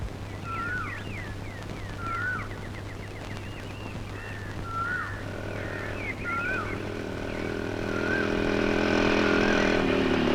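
A motorcycle engine swells into a steady, growing drone as the bike is ridden closer, while birds chirp over a low background hum.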